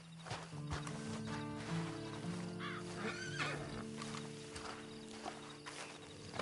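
A horse in the video game Red Dead Online whinnies twice with hooves clip-clopping, a low musical bed underneath; close and clear, no talking.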